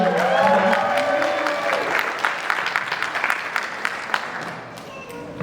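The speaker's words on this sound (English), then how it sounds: "Let's give a round of applause." Wedding reception guests clapping at the start of the speeches, a loud crowd round of applause with a voice talking over the opening seconds, then individual claps thinning out and fading.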